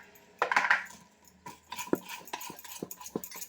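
A spoon stirs and scrapes through thick idli batter mixed with jaggery, banana and cardamom in a bowl, making soft wet clinks and taps, close and fairly quiet, with no talk.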